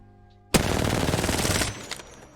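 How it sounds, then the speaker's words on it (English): An R-99 submachine gun in Apex Legends fires one loud, close full-auto burst of just over a second, a fast rattle of shots that ends abruptly, followed by a faint mechanical clack. "if you guys haven't seen the R9 recoil yet, this is what it looks like"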